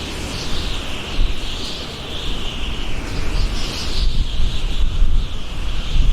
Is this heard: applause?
no